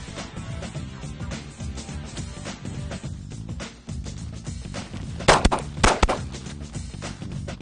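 Live pistol fire in a combat shooting drill: sharp broadband reports at close range, with two strong shots standing out near the end over a busy background of clatter.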